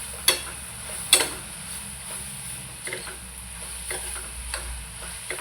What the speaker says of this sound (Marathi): मी अख्खा टोमॅटो घेतलेला आहे टोमॅटो पण त्याच्यामध्ये मिक्स करते